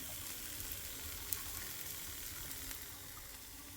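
A cheese quesadilla sizzles in a frying pan, a soft, even, continuous crackle close by with one small tick, no voices.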